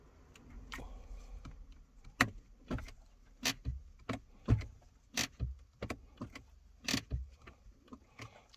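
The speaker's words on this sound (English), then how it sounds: "Press it, handbrake's off, handbrake's on, handbrake's off, handbrake on." Vauxhall Mokka electric handbrake button being pressed repeatedly, giving a series of short close clicks and brief motor whirs as the brake engages and releases, spaced irregularly with no talking.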